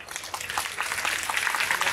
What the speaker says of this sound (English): Please join me in giving them a big round of applause as well.